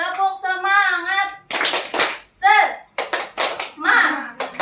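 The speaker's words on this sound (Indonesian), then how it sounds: "Kita tepuk semangat dulu, bisa?" A primary school class does a rhythmic spirit clap led by a teacher, sharp hand claps alternating with children's chanting voices in a quick call-and-response pattern.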